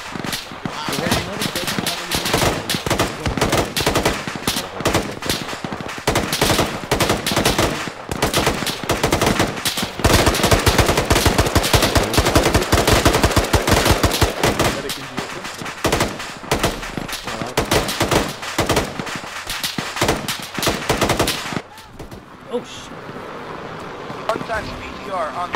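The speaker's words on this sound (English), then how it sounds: "Nick, start shooting." Dense, continuous gunfire from the Arma 3 combat video game: rapid automatic bursts and overlapping shots that fill nearly the whole span, loud and close, easing off near the end, with voices talking amid the shooting.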